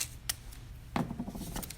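Painter's tape handled at a craft table gives a few faint, close clicks and a short crackly rustle as it pulls free.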